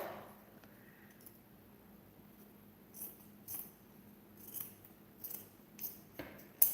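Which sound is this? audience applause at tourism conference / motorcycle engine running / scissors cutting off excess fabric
scissors cutting off excess fabric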